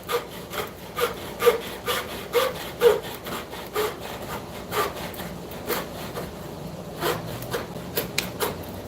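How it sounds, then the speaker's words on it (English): A handsaw cuts through a wooden board in steady, rhythmic back-and-forth strokes, fairly close and clear, with no talk over the sawing. "That noise is my hubby sawing through a board"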